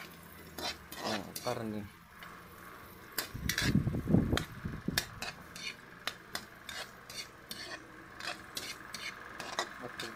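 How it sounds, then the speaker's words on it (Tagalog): Onions stirred in a pan give off irregular clinks and scrapes of a utensil against metal, sometimes in quick clusters, under a soft background and intermittent speech. "Atin munang halo-haluin para maluto ang sibuyas"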